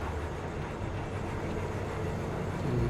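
A train in the Cyberpunk 2077 video game, a steady dense rumbling rush of rail noise swelling slightly toward the end, heard alone without talk.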